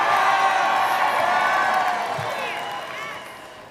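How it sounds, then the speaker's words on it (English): Crowd applause and cheering erupt at a Chicago mayoral election speech, filling the space loudly at first and gradually fading, with a voice speaking over the tail end. "There goes that applause."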